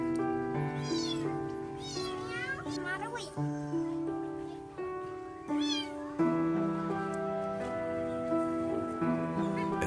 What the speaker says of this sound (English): a frightened kitten calling for help